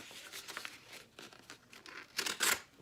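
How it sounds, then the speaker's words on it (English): Restored old knife slicing through paper by its own weight, giving a few soft papery tears and crinkles that build to two louder, sharper rips near the end, with no one talking. "obligatory YouTube paper shredding and see if it works"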